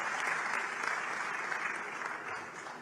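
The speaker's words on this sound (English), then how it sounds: "that deserves a round of applause" An audience at a Pravasi Bharatiya Diwas gathering gives a dense, even round of applause that holds steady and then gradually tapers, heard alone without talk.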